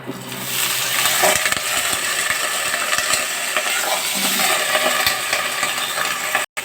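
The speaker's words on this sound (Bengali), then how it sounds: "তেলটা গরম হয়ে গেছে, আমি আলুগুলো ছেড়ে দিচ্ছি তেলের মধ্যে।" Raw jackfruit pieces and potatoes sizzle and fry steadily in hot oil in a Bengali kitchen, a dense continuous crackle with occasional stirring clinks, loud and close, with no talk.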